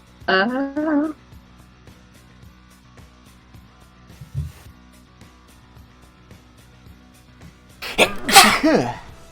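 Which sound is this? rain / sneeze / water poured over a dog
sneeze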